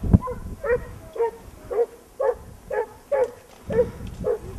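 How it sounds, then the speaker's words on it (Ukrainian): Dogs bay in a steady, repeated rhythm, about nine evenly spaced yelping calls carrying from a moderate distance outdoors. "І опять гон собаки."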